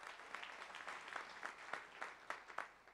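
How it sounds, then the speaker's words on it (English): Audience applause at the Future Fund 2019 event, a steady wash of many hands clapping with scattered sharper claps, moderately distant and continuous throughout. "Let's have a round of applause for that."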